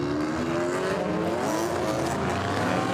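GT4 race cars rumble together at the Nürburgring as the field sets off on its formation lap, a loud, steady, dense engine drone holding throughout.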